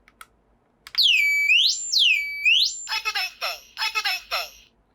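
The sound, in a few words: smoke detector alarm sounding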